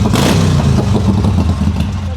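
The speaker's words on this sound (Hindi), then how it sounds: "मैं बता रहा हूँ बहुत लाउड पाइप्स हैं, बहुत लाउड पाइप्स हैं।" A motorcycle engine rumbles loudly and deeply close by, its exhaust burbling with slight revving pulses.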